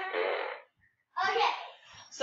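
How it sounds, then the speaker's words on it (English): A toy fart blaster lets out two short, raspy, sputtering blasts close up, separated by a brief silence, with a small noise at the very end. "So this is a fart blaster."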